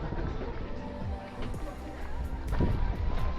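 Strong gusty wind buffets the microphone on an ultra marathon trail, a loud rumbling roar with brief whistling bursts, while voices are faintly heard beneath it.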